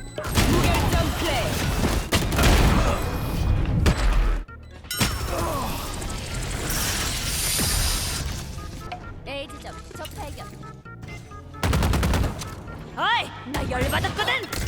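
Missiles fire in a video game as a dense, loud barrage of blasts and crashes in heavy bursts, broken by short gaps, with a player talking throughout.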